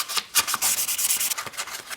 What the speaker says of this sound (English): I'm going to sand it again.